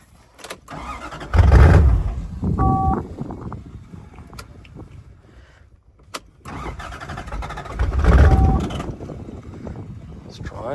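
A Toyota 1UZ V8 engine that has sat unused for a few years cranks and catches twice, each attempt a loud rising roar that fades back, with quieter rumbling between.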